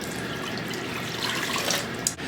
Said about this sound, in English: I'm going to put a cup of water in there.